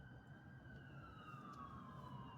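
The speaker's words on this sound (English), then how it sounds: "help whoever needs the fire trucks and the ambulance and the police" Emergency vehicle sirens pass in the distance, a faint wailing tone sliding slowly downward over a steady low traffic rumble, with no talking.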